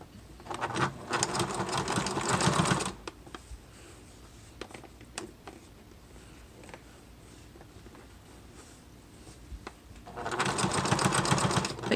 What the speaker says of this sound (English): I like to just stitch this closed with my machine.